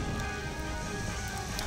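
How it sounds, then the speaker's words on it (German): Rain falls on a fire in the video game Tombi, a brief, even hiss of downpour with faint crackle underneath and no voices. "Wie der Regen das Feuer löscht."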